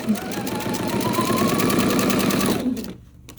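A sewing machine stitches quilt pieces for a Christmas scrap quilt in one sustained, rapid, loud run lasting a few seconds, then stops abruptly into near silence.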